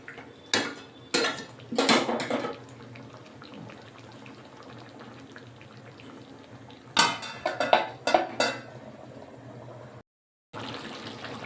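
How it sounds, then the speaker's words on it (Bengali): Chicken in a pot gets stirred and a lid set on, with bursts of metal clanks and scraping at the start and again later, separated by a low bubbling simmer and a brief silent gap. "নাড়াচাড়া করে আমি আঁচটা লো টু মিডিয়ামে রেখে চাপা দিয়ে দেব"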